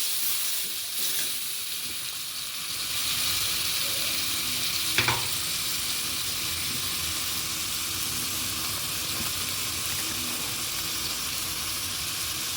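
Cashew and tomato paste sizzles in a pan for a home-cooked potato curry, a steady broad hiss of frying with a brief stir-scrape midway, close and continuous with no talk.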